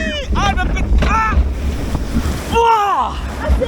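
Water sprays and splashes over riders on a water attraction at Nigloland amusement park, a continuous broad rushing wash close to the microphone, with excited squeals and shouts from the riders over it.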